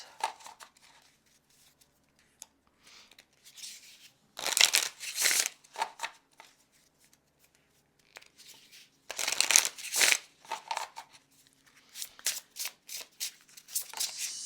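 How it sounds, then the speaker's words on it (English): Mass-market oracle cards from A Compendium of Witches being shuffled close up in several separate bursts of papery riffling and sliding, with quiet gaps between them. "So let's shuffle up the whispers."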